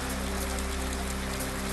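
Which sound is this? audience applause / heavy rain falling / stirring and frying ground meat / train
heavy rain falling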